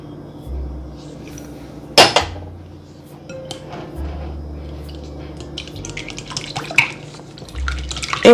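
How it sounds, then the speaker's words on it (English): Eggs being beaten in a bowl for a pecan pie filling: irregular clinks and taps of a utensil against the bowl, with one sharp knock early on, over a low steady background hum. "First, I'm gonna start by beating the eggs"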